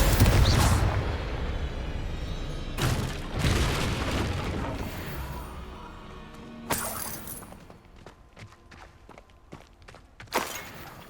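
Spell blasts from a Hogwarts Legacy duel burst out as several sharp booming explosions, the first few dense and loud, later ones shorter and thinner, with scuffling footsteps and debris between them.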